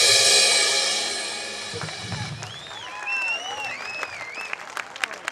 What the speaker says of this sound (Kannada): ಈ ಪುಟಾಣಿ ಹುಡುಗಿಗೆ ನೀವು ಕೊಟ್ಟಿದ್ದ ಚಪ್ಪಾಳೆ ಬಹಳ ಸಣ್ಣದು ಅಂತ ಅನಿಸುತ್ತೆ ನನಗೆ.